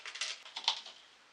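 A whisk beats eggs with sugar, vanilla and salt in a bowl for pancake batter, giving a quick run of light, close clicking taps that fade out.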